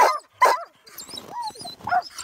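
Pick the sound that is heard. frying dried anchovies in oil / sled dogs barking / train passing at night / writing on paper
sled dogs barking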